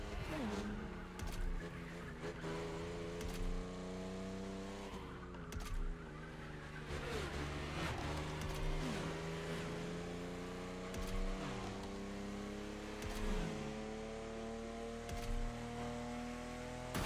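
Convertible Jaguar E-Type from The Crew Motorfest driving around Hawaii, its engine holding a steady droning note that rises and falls through gear changes, with brief tyre scrubs as the car slides, loud and continuous throughout.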